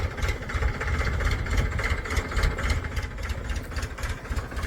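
A tractor engine idles on a farm with a low, steady chugging rumble and faint rhythmic knocking, continuous and moderately close.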